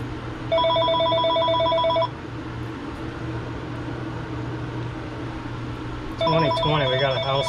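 A house telephone rings in two bursts of electronic trilling, one long ring near the start and another at the end, loud and close over a steady low hum.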